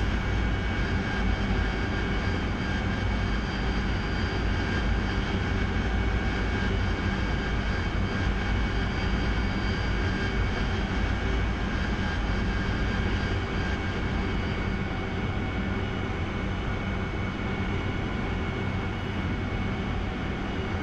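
Jet engine of a DCS World aircraft throttled back, a steady, even roar with a faint high whine running unchanged the whole time, with no talk.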